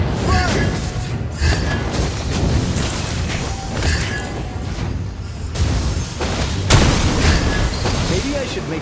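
A Lava Burst fire skill explodes in a Mobile Legends-style battle game, with booming bursts over a continuous din of game effects and music, including a sharp loud blast near the end.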